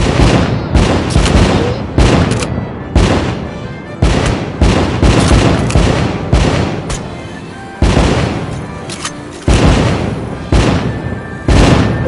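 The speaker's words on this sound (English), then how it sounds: "Light up those fireworks." Fireworks bursting in a VR video game, a rapid run of loud booming explosions that follow one another through the whole stretch, close and punchy with no talk over them.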